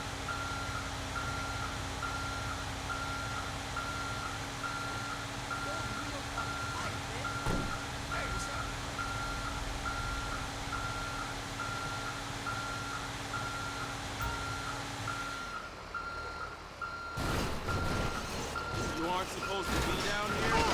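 Steady reversing beeps from a truck backing up to a trailer in GTA Online repeat in an even rhythm over a low engine drone for about fifteen seconds, then stop as other game sounds and clatter take over.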